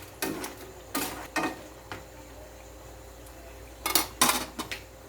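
A spoon scraping and clanking against a cooking pot while a home-style dish for the family is stirred: a few sharp metallic knocks in two short clusters, close up, with quiet gaps between.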